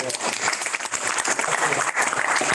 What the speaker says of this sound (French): Je pense qu'on peut vous applaudir d'ailleurs